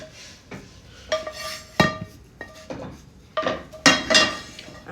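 A plate is handled on a kitchen counter, giving a series of irregular ceramic clinks and knocks, some sharp and close, with brief quiet gaps between them.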